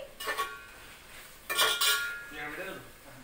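A spoon scrapes and clinks against a pot while ginger paste is stirred into Andhra-style biryani, a few short metallic bursts with quiet pauses between them, close and fairly soft.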